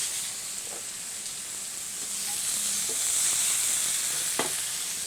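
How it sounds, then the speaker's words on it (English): Seasoned steaks sizzle in hot oil in a pan, a steady close hiss and crackle that swells slightly midway and runs on without a break, with no voices. "we'll add some oil to the pan, give it a swirl, and we'll add our seasoned steaks."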